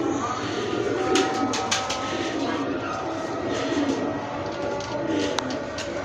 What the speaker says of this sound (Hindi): माशाल्लाह बहुत प्यारी कबूतरी है